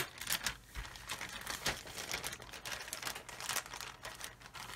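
A plastic bag holding sprues from a Trumpeter 1/35 M983 HEMTT model kit is cut open, giving close crinkling and rustling plastic with snips for a few seconds, with no one talking.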